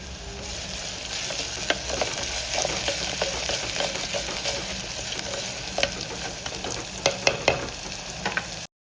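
Onions sizzling and frying in a pan with curry leaves and rock salt, a steady crackling hiss with occasional sharper pops and stirring clatters, no talking.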